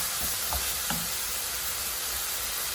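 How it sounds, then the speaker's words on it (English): Soya sauce is stirred into Manchurian sauce in a hot pan for homemade chicken Manchurian, giving a steady soft sizzle with a couple of faint utensil scrapes. "And keep stirring the mixture really well."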